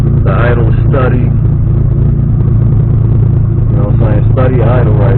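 Engine idling steadily on its first start while being tuned, a loud continuous low rumble with a person talking over it throughout.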